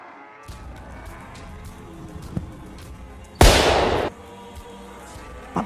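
A single loud, larger firecracker explodes close by during Diwali with a broad, crackling blast lasting under a second, set against quiet outdoor background noise.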